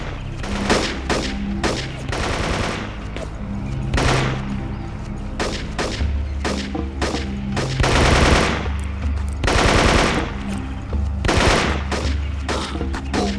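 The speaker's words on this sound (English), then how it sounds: "Taking fire!" Bursts of automatic rifle and machine-gun fire rattle in the jungle combat of the PC game Marine Sharpshooter II: Jungle Warfare, coming in repeated short volleys with brief gaps, loud and close, with no talking.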